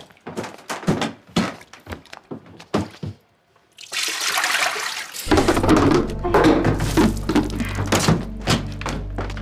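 Water pouring and splashing into a container indoors, loud and close, following a sharp thunk, with people talking before it.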